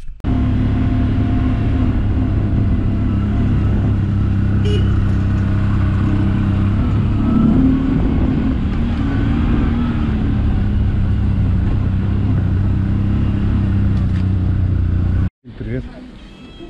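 A car driving along a village road, its engine humming steadily with a low drone and road rumble throughout, then cutting off abruptly near the end before resuming briefly.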